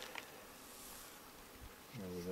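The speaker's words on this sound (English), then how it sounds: "If there's bees on the lid, I need to shake them off." Honeybees buzz faintly around a beehive lid in a low, steady hum, with a brief clunk and a tonal scrape near the end.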